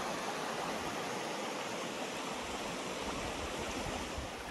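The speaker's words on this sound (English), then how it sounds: "Get down to the creek real nice here." Small mountain creek on the Molar Loop flowing over rocks, a steady broadband rush of water that fills the whole stretch without pause, close by and unbroken, with no voices.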